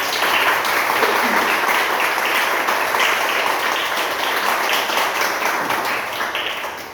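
A church congregation applauds together, a dense, steady wash of clapping that holds at an even level for several seconds before tapering slightly at the end.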